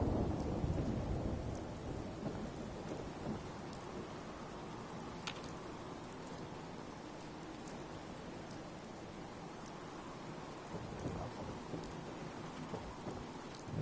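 Steady rain patters continuously at night in Fallout 4 while low thunder rumbles faintly in the distance, quiet and even throughout.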